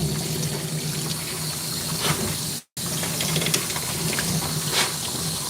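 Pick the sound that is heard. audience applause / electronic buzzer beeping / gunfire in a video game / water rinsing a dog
water rinsing a dog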